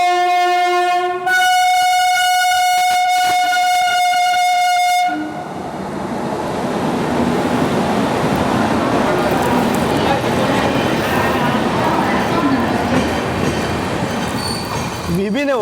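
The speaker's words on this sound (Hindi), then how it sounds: "दादर के प्लेटफॉर्म नंबर 11 पे खड़ी है हावड़ा CSMT मेल" The Howrah CSMT Mail stands at Dadar platform 11 while a train horn blares in a long, loud, steady blast, then gives way to a rolling rumble and clatter of passing coaches that continues to the end.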